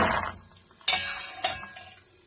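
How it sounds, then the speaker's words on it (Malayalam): Chickpeas being roasted in a pan for masala pori, with a ladle scraping and clinking against the metal in a few sharp strokes between quieter stirring. "വറന്ന് വന്ന് കടല നമുക്ക് കോരിയെടുക്കാം."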